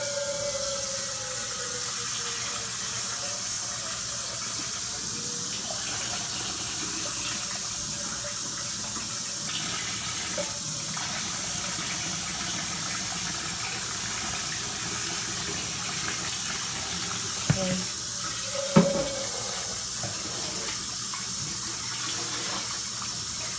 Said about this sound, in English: Let me clean this pan out real fast.